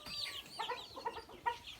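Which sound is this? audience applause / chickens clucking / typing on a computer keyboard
chickens clucking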